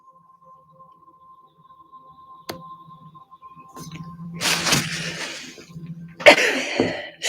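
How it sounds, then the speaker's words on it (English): A sneeze bursts out indoors during a quiet livestream, followed by a second sharp nasal expulsion, both fairly loud and close against a faint steady background hum. "Sneezing on camera."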